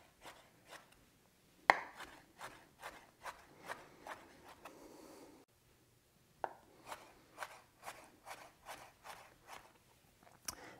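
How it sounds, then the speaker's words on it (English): A knife chops capers and olives on a cutting board in quick, close, crisp taps, one louder thump early on and a short scraping pause midway before steady chopping resumes, quiet and free of talk. "you really just want to cut up these capers and olives until they're in very, very small pieces"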